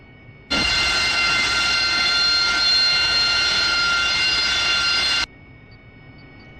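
Military jet taxiing in a flight simulator game, a loud, steady engine whine and roar that starts abruptly, holds for about five seconds, then cuts off.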